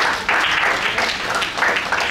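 A brief, loud burst of audience applause for a woman, close and full, with the clapping swelling slightly partway through and carrying on to the end.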